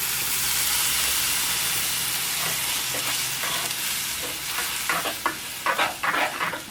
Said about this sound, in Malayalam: ഇനി കറിയിലേക്ക് കുറച്ച് വെള്ളം കൂടിയും ചേർക്കാം